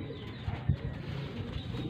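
A pigeon coos softly and somewhat distantly against a steady outdoor background hum, the low murmuring call rising briefly in the middle without any talk.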